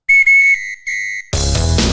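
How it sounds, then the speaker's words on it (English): A train whistle sound effect gives two loud, steady blasts, a longer one and then a shorter one after a brief gap. Music then starts abruptly and plays on without any voices. "Blow the train whistle"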